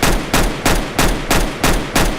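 Seven evenly spaced rifle shots fire in a steady burst in the CS:GO game, each a sharp loud crack with a brief tail, no voices.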